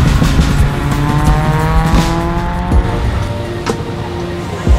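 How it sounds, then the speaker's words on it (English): A tuk-tuk on a road in Sri Lanka, its engine droning loud and close with rising and falling pitch as it pulls away, with occasional knocks and rattles over the steady motor noise. "I turned the key and set that tuk-tuk free"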